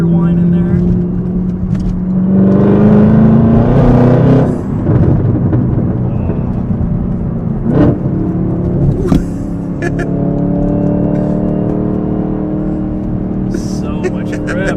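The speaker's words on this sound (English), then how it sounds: "You get just a little bit of supercharger whine in there." A Civic Type R FL5 engine drones and rises through the gears from inside the car, with a faint thin supercharger-style whine over the engine note while people talk.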